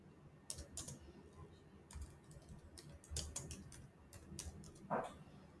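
Soft, irregular keystrokes tap on a keyboard as a name is typed into an app, coming in short quiet bursts with brief pauses between them.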